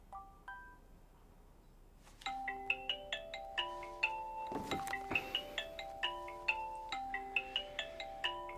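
A phone rings with a melodic chime ringtone, starting softly and then repeating as a steady pattern of bright, close tones with a brief rustle in the middle.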